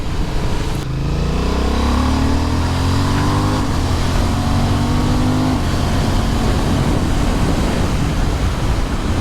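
A 2023 Honda CB750 Hornet motorcycle engine revs loudly up through rising gears, its pitch climbing steadily before settling into a sustained roar at speed.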